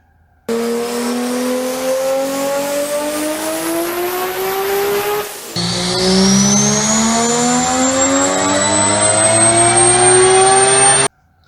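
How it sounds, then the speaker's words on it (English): A six-cylinder engine revs up smoothly twice, pitch climbing steadily each time, loud and close, with a brief pause between the two runs. "So let's take a six-cylinder motor and look at it just like that"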